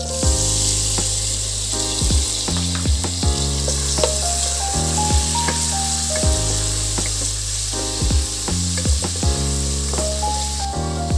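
Onions sauté in butter in a pan for rice pilaf, a steady close frying hiss running under faint background music, with occasional small clinks.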